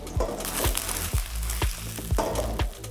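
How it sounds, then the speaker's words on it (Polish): Onion frying in a wok, a near, steady sizzle with a low hum beneath and regular scraping strokes about every half second, no talking over it. "Wrzucam cebulę i w trakcie jak mi się podsmaża cebulka, pokroję boczniaki."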